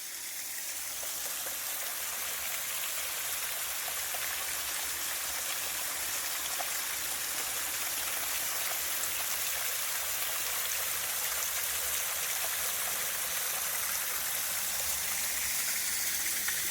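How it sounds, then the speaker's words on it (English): A waterfall runs beside the E&N Railway above McLean Mill near Port Alberni, in fog, making a steady, continuous rush of falling water at moderate distance without voices for the whole stretch. "And then there's a lovely waterfall on the left side."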